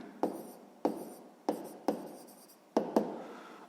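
Pen strokes on paper while a math solution is written out by hand, six sharp taps and short scratching strokes at an uneven rhythm, close and fairly quiet, with no voices.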